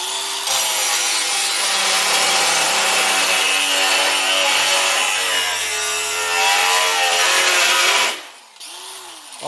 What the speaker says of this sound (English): How are you cutting it? With a grinder.